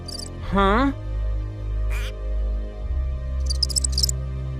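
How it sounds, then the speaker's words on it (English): Short, high cricket chirps come in quick bursts at the start and again near the end of a scene from the cartoon The Loud House, alongside a cartoon voice's gliding exclamation and a low steady hum. "Is that a cricket?"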